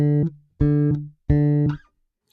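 Trilian virtual bass playing three short sampled notes, each cut off with an audible release noise and a brief tail, spaced about half a second apart with nothing else heard.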